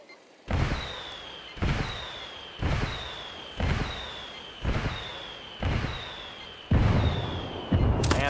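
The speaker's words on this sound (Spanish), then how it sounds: "Calling for indirect fire." Artillery strikes in the video game Ghost Recon Wildlands: a series of seven heavy booming explosions at roughly one-second intervals, each a sharp loud blast with a rumbling tail and a falling whistle, with no talk over them.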